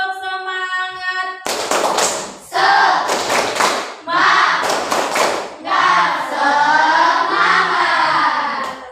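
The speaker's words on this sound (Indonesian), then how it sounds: "Yuk, kita tepuk semangat dulu sebelum memulai pelajaran" A primary school class does a rhythmic 'tepuk semangat' clapping chant, with sharp bursts of group clapping in a patterned rhythm mixed with children's voices chanting.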